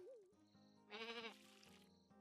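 A sheep in the video game Staxel gives a single short bleat, faint and up close, set against a low steady background hum.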